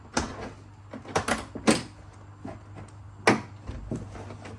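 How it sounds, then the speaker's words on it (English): Door lock switch being unplugged from a 1978-1982 Corvette door panel, a series of close plastic clicks, snaps and knocks at irregular intervals over a quiet background. "I have to unplug the door lock switch."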